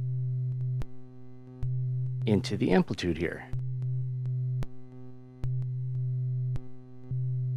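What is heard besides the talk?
sine wave from an oscillator in a modular synth module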